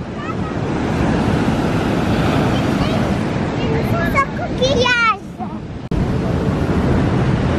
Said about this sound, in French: il y a des vagues qui sont énormes qui montent jusqu'en haut de la plage